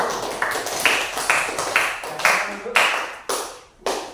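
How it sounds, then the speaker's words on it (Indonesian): Short bursts of clapping from a classroom of students rise and fade again and again for a student group, each burst a quick loud smack that decays before the next. "tepuk tangan untuk kelompok"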